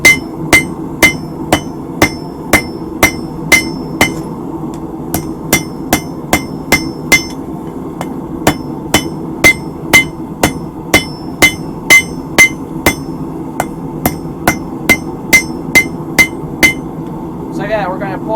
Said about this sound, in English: we're just going to start drawing that out off of the horn of the anvil here.